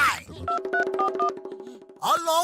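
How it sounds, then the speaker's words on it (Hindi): A cartoon telephone being dialed, a quick run of evenly spaced electronic beeps in close succession, with voices speaking just before and after. "अरे हम फोन लगाता है"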